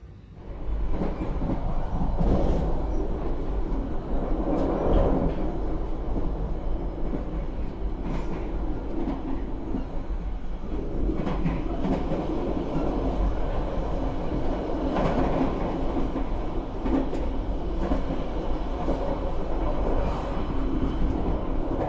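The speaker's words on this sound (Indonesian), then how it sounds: "diberangkatkan kembali dari stasiun Madiun" KA Brawijaya executive train departing Madiun station in Indonesia, heard from on board as a steady loud rumble with rhythmic clickety-clack of wheels over rail joints and occasional squeals, continuous throughout without talk.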